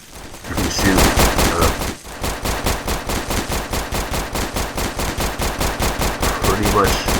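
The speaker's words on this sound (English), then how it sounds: "The Gatling gun wall. Unfortunately, yes, this does work. You can shoot" A Gatling gun fires in the Roblox game Scopes and Shovels 2, loud rapid rhythmic bursts that run almost unbroken after a brief pause near the start.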